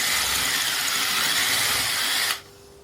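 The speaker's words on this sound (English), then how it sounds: "We're going to go ahead and drill into the wall." A power drill whirs loudly and steadily into a wall, then stops abruptly near the end, leaving quiet room tone.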